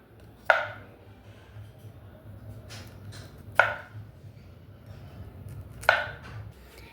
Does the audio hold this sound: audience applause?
no